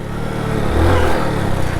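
A motorcycle jerks forward as its clutch is dumped abruptly, the engine note dipping and surging in a short, loud, close-up lurch with a steady low rumble underneath.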